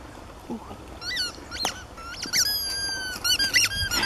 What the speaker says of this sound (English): Oh, he's squeaking.